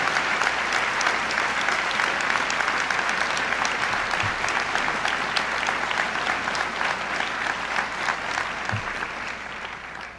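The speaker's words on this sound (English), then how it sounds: "If we could just give them a round of applause." A large audience at a medical school convocation ceremony applauds, a dense, steady wash of clapping filling the hall for about ten seconds before slowly fading toward the end.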